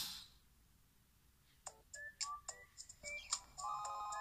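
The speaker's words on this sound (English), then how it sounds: "A fun phone call!" A cheerful electronic ringtone plays in the Tomodachi Life video game: a string of bright, chiming synthesized notes in an irregular melodic pattern, fairly close and clear, with no talking over it.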